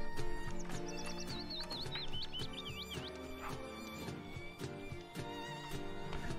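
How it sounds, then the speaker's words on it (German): A horse whinnies over a busy soundtrack in The Sims 3 with steady music, then hooves clip-clop in a regular rhythm. "Weil sie kann das Pferd hier reiten."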